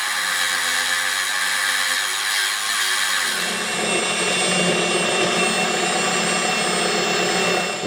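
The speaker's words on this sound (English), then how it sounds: "I'm going to see if I can sand it down." Rotary tool with a sanding drum grinding copper and resin, a loud continuous high-pitched whir that shifts tone partway through as the drum bears on the workpiece.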